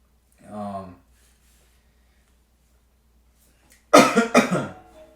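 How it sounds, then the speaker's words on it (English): A short cough rings out alone, followed after a pause of silence by a burst of louder coughing or throat clearing. "I got a little cough here"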